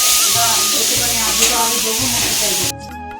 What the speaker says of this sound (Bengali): এই যে আলুগুলো ভাজা হচ্ছে